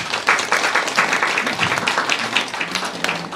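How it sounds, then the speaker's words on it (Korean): Congregation applause during a Sunday church service, many hands clapping together in a steady, dense crackle, moderately loud and sustained throughout with no clear voices. "주님께 영광의 박수를 올려드리겠습니다."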